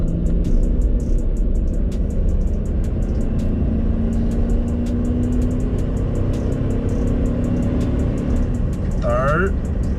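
Pickup truck fitted with a donor 4L60e automatic transmission under test, driving along with a steady engine drone that rises and drops as it shifts through the gears, heard from inside the cab, with faint talk.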